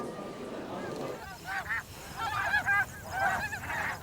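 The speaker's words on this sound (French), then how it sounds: "les oies sont au rendez-vous" A flock of geese honks repeatedly in overlapping calls, starting after a second of low rumbling wind or water noise.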